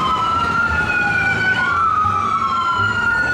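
A toy ambulance siren wails continuously and loudly with a rising and falling electronic tone, close by and with no voices.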